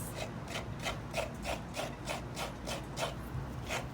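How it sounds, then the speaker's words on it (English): Fresh coconut rubbed by hand across a grater while a Guyanese fish curry is prepared, making steady, rhythmic rasping strokes, about three per second, close and alone with no talk. "I'm gonna grate my coconut quickly"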